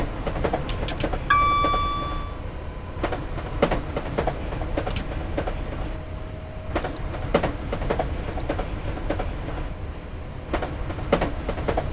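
A Class 700 electric train running in the game Train Simulator 2018, a steady rumble with rhythmic clicks of wheels over track joints and a short electronic chime near the start.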